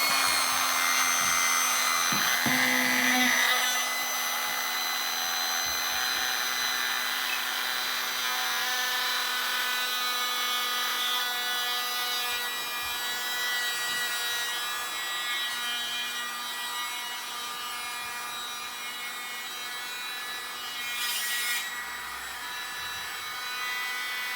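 An electric air pump runs steadily as it inflates a Deeplee single air bed indoors, giving a continuous whirring hum with a constant tone that barely changes over about twenty seconds and carries no talk.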